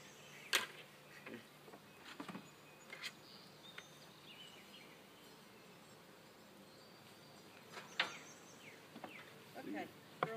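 Honeybees buzz around a small hive being opened for inspection, a faint steady drone with occasional louder passes of single bees flying near, plus scattered soft clicks and handling noises.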